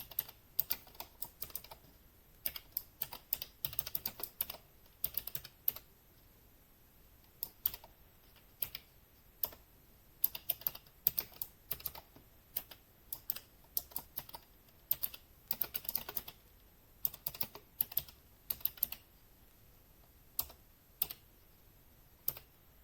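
Commands typed on a computer keyboard into a bash script, quick bursts of close, crisp keystrokes separated by short pauses, quiet with no voices.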